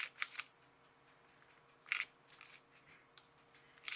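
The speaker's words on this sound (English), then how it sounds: "So I'm just going to slice 6 slices of butter." Knife slicing through a block of butter into a few slices, heard as faint, close, sharp cutting clicks in short separate bursts amid near silence.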